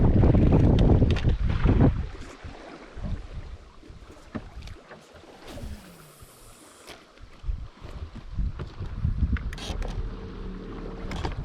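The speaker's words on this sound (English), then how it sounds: "It is windy." Gusty wind buffets the microphone, with low rumbling bursts that rise and fall, alongside some light splashing and movement nearby.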